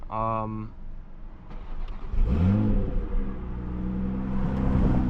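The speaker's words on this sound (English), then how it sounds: "And that's the cold start" A 500-horsepower Toyota Supra MKV cold-starts with a whirring crank, then the engine catches and flares to a loud, close rev before settling into a steady, droning high idle. A brief voice is heard at the very start.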